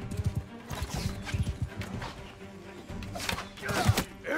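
A horse gallops in Mount & Blade 2: Bannerlord battle, giving rapid, thudding hoofbeats close by that rise and fall, with a brief low snort or whinny near the end.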